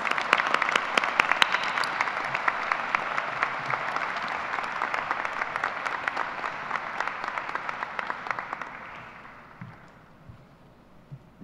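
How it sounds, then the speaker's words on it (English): A graduation audience gives a sustained round of applause for award winners, dense clapping holding steady for about nine seconds before thinning out and fading to a few scattered claps. "Let's give one more round of applause for all the award winners."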